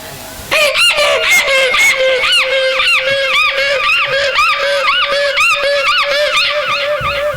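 A rooster crows loudly and close in repeated, rapidly warbling calls, heard alone without speech for most of the clip, as part of a Tamil village stage play.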